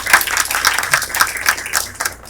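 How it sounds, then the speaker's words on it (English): An audience at the General Assembly applauds the political party leaders, a fairly close patter of claps with individual hand strikes standing out, tapering off near the end. "So let's give a big applause to them."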